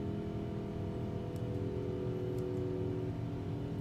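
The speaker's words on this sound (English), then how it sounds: "Listen to those engines, wow." Jet engines of an Airbus A350 climbing out after takeoff give a steady, loud droning roar with a low rumble and tonal hum, heard continuously from inside the cabin.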